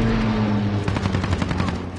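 After a short quiet moment, a rapid close burst of automatic gunfire breaks out in Call of Duty Modern Warfare, shots fired through a fence, crackling loud for about a second.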